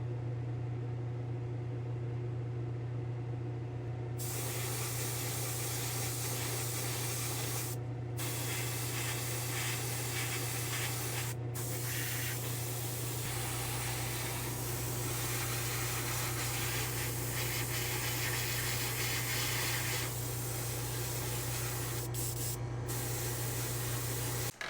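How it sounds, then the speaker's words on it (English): Steady aerosol spray hiss fills the booth as Hot Wheels cars get coated white, continuous and close with brief pauses between bursts over a low constant hum. "I'm going to go spray these with some white"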